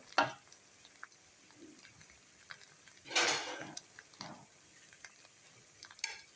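A ladle scrapes and clinks against a pot of boiled food as portions are served into bowls and plates at a home kitchen on a rainy day, in a few scattered, quiet scoops and taps with soft liquid sloshing.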